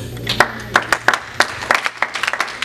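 Congregation clapping in a church during an ordination service, irregular bursts of hand claps with some cheering over a steady low hum, moderately close and lively.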